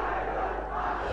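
A large crowd at a religious political rally chants a slogan in unison in response to a leader's call, a loud, dense wall of massed voices filling the whole moment.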